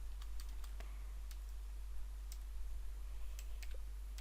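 Typing HTML code on a computer keyboard, heard as a quick, irregular run of light key clicks over a steady low hum, close and alone without speech.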